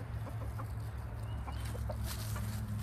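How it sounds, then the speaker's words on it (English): Two silkie roosters on a farm cluck softly in short scattered bursts over a steady low background hum, fairly faint and close. "And here is Spunky and Sweetie, the two silky roosters that have been fighting."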